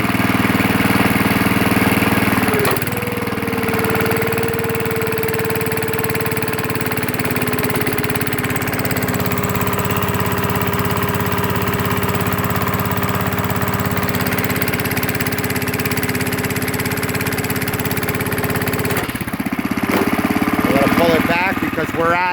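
Log splitter running steadily, its engine droning loud and continuous as the ram is pulsed against an 8-inch cross-grain maple log, with brief dips and shifts in tone near the start and end.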